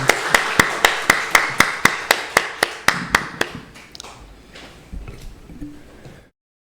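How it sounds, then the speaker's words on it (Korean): A church congregation during a Korean worship service claps in a fast, even rhythm, about a dozen sharp claps that soften and trail off into room murmur. "우리 하나님께 영광의 박수 올려드리겠습니다."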